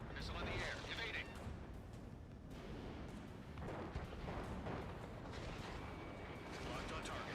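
A missile launch during jet combat in Ace Combat 7 brings a dense roar of rumbling blasts and whooshes that swell and fade repeatedly, with radio voices talking over the din.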